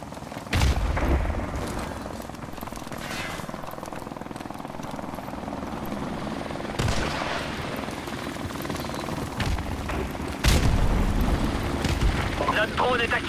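Enemy helicopter rotor drone in Call of Duty Modern Warfare Remastered, a steady loud thrum through a noisy battlefield with explosions and bursts of gunfire, while voices talk over the action.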